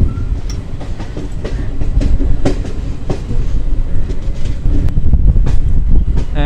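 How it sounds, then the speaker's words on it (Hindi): Samta Express train rolling into Vizianagaram station, a loud continuous rumble with rhythmic clickety-clack of wheels over rail joints and wind buffeting, heard close from on board. "Samta express entering into Vizianagaram."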